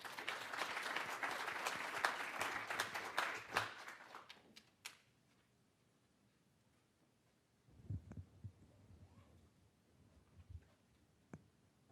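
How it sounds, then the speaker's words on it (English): An audience at an academic colloquium applauds a speaker, dense clapping for about four seconds that tapers off into near quiet, followed by faint shuffling and low sounds. "Let's give a round of applause for Dr."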